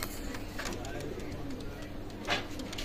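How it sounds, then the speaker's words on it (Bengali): Oman bloodline pigeons at a loft giving soft low coos, faint and repeated under someone talking, with light background noise. "একদম ওমান ব্লাড লাইনের রানিং পেয়ার কবুতর"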